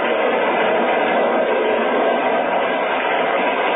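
A train runs at speed on open track at night, a radio drama effect heard as a dense, continuous rushing roar that stays steady and loud throughout, with no clear wheel beats.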